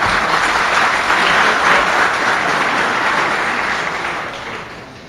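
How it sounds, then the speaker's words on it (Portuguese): Sustained applause from a conference audience greeting a panel guest, dense and loud clapping that holds steady for several seconds before gradually fading. "Uma salva de palmas, por gentileza."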